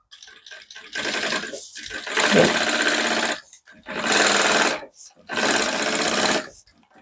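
A sewing machine stitches a seam on a zippered pouch in bursts of rapid mechanical chatter, three or four runs of a second or so separated by short pauses, close and loud, with no speech over it.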